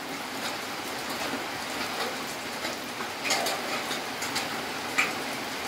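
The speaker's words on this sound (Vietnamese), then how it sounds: "Mưa ở đây mưa sóc trăng cũng đang lớn nữa quý vị giả" Rain falling in Sóc Trăng, Vietnam, a soft continuous hiss with irregular patter and occasional sharper drips or taps, fairly quiet and without talk.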